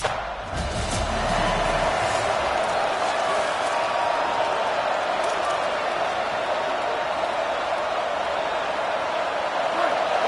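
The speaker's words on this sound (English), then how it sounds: "This crowd bringing an ear-splitting welcome to their visitors." Loud stadium crowd at a football game roaring an ear-splitting welcome to the visiting team, a dense continuous wall of cheering throughout with a few thuds near the start.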